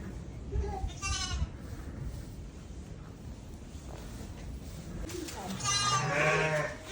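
Sheep and lambs at lambing time bleat nearby, two clear calls several seconds apart, the second louder and longer, over wind noise and a low background murmur.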